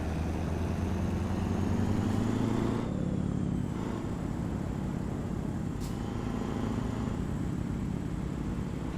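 A Scania R series truck engine in Euro Truck Simulator hums steadily at a low, even pitch, with a brief shift in tone partway through, continuous and moderately loud without any talking.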